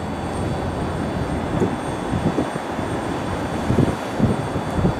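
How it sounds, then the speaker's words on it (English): An American Airlines Boeing 737 arriving at Cleveland Hopkins Airport, inbound from Miami: a steady, distant jet-engine rumble that swells slightly, with no voices. "There's our AA 737 inbound from Miami."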